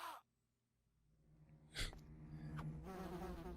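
An insect-like drone from giant bees in the video game Resident Evil: Deadly Silence builds after a short gap and a sharp thud, then hums on steadily and quietly.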